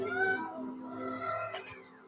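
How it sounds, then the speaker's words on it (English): A cat meows in drawn-out, tonal calls, fairly close and clear, with a second shorter meow following after a brief dip; no one speaks over it. "There's a cat."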